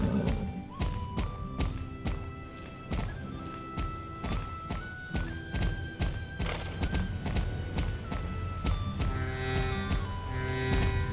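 Horse hooves clip-clop in a steady rhythm with occasional whinnies in a video game, layered over game music and ambient effects, moderately loud throughout.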